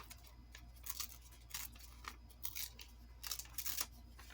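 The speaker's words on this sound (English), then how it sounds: "So let me just tear down this side just a tad" Paper is torn by hand in short, separate rips, several quick tearing bursts close to the listener in an otherwise quiet room.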